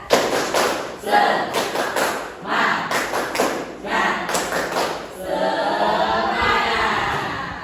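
A classroom of pupils claps out a rhythmic spirit chant together, the claps loud and patterned in quick bursts, followed by a more continuous stretch of clapping and crowd noise.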